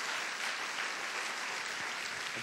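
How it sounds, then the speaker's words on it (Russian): A church congregation applauds, a quiet, even patter of many hands clapping that continues steadily without a pause for a couple of seconds. "Давайте воздадим Господу громкие аплодисменты."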